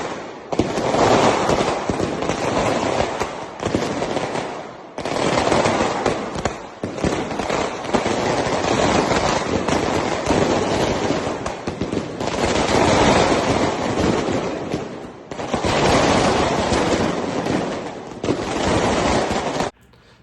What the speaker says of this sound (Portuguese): torcedores do Vasco foram em frente ao hotel onde o Atlético Paranaense está hospedado para soltar fogos